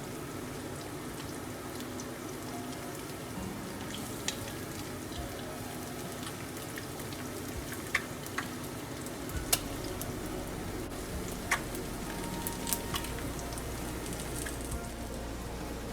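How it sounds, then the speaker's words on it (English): Steady, even sizzling of mushrooms frying in oil in a pan, with scattered sharp pops and crackles rising over the constant hiss. "fry the all mushroom with same oil"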